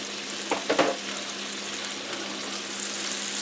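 Mushrooms and pepper jack burgers cook on a griddle with a steady, soft sizzle, a few clinks of a utensil near the start, and a faint hum underneath.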